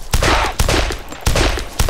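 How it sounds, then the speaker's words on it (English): Gunfire in the video game DayZ: a few loud, close shots in quick succession, each followed by a short ringing tail. "I'm gonna have to shoot them."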